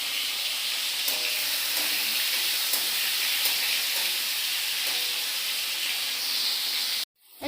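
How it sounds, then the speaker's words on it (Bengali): Two hilsa fish fry in oil with a continuous, even sizzle and hiss and faint occasional pops, cutting off sharply near the end. "এই যে বন্ধুরা হয়ে গেছে আমার ইলিশ মাছ 2টা ভাজা।"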